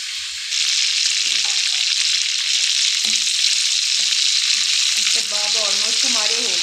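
Chicken seekh kebabs frying in a karahi pan, a loud continuous sizzle and spatter of hot oil close up, with brief clinks and stirring scrapes near the end.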